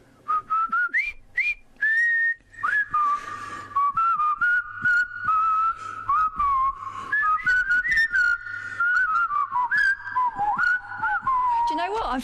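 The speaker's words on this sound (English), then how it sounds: "Bit of whistling. Bit of whistling." A person whistles a lilting tune, the Colonel Bogey March, with trills and slides, loud and close, one continuous melody running for the whole stretch with brief breaths between phrases.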